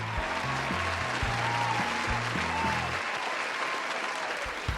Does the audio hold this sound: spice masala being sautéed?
no